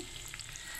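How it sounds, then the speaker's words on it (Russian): Food frying in a pan while pasta with avocado is being cooked, a steady close sizzle with light crackle running through the whole short moment, no voices over it. "Оно сейчас пожарится чуть вместе."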